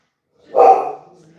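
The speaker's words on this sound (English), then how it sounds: "Why are you barking?" A single sharp bark from a dog, close by, with a short trailing tail into quiet.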